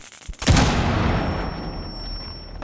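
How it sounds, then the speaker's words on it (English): A frag grenade explosion in a video game lands with a single loud boom, then decays into a long rumbling tail with a thin lingering ring. "Throwing frag."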